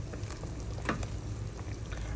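Soft, quiet bubbling and light sizzling from a pot coming to a boil while pork adobo is cooked, a gentle continuous simmer with a few faint clinks.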